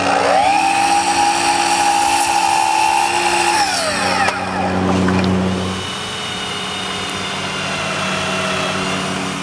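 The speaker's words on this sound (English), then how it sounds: "so I cut some and drill pilot holes" A power drill bores pilot holes into wooden door stoppers for a shop's front doors, a loud close whine that rises in pitch, then winds down into a lower lingering hum.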